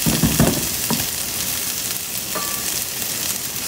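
Indian spices hit hot oil in a frying pan with a loud, steady sizzle, a few stirring scrapes early on, close up with no talk.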